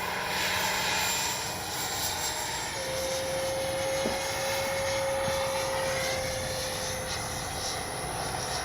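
A Freewing JAS-39 80mm electric ducted-fan RC jet makes a low pass down a runway, a steady loud whooshing whine held throughout with a faint tone rising and falling as it passes.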